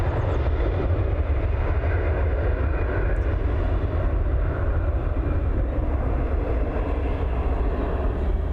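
An airliner arriving at Dublin Airport rumbles steadily in the distance, a broad low roar of engine noise that stays even and moderately faint from start to finish.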